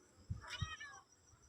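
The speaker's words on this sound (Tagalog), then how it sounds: "Mga pusa." Pet cats give two short, close meows in quick succession, followed by a fainter drawn-out mew, heard alone against a quiet background.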